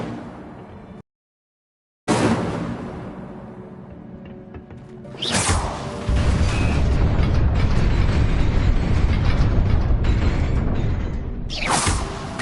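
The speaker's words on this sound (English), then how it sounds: "Incendio!" Incendio fire spell cast in Hogwarts Legacy: a whooshing ignition followed by a sustained, roaring burst of flame that swells and holds loud for several seconds, ending in another whoosh, with mechanical clicks early on.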